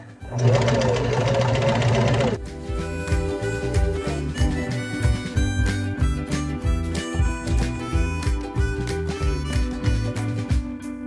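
A sewing machine stitches around the edges of layered fabric cloth wipes, a close, rapid mechanical chatter that runs in bursts with brief pauses as the fabric is turned.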